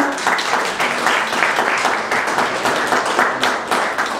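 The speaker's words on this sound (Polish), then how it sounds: "Tutaj gorące brawa proszę" Warm, sustained applause from an audience at a photography contest award ceremony in a cultural centre, thick and continuous with many overlapping claps at fairly strong volume.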